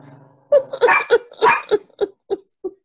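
A puppy barks close by in a quick run of about ten sharp yips that get shorter and softer toward the end.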